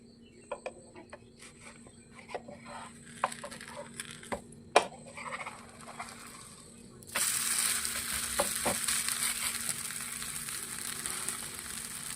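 Wheat dosa is flipped and left frying in ghee on a pan. Scattered taps and clicks give way midway to a steady, close sizzle that continues to the end, with no voice.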